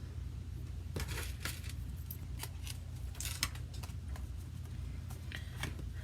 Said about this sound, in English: I'm just going to trim off this tiny bit of excess